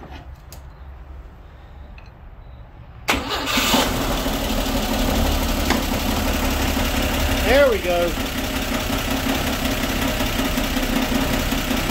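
A 1960 Grumman Olson Kurbside step van engine cranks and catches at about three seconds, then settles into a steady, rough idle close by outdoors in the cold, with a brief spoken remark over it.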